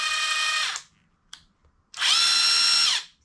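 Kobalt 24 volt brushless ratchet running at speed 1, two bursts of whirring motor noise, each under a second, separated by a brief click and pause, close and loud.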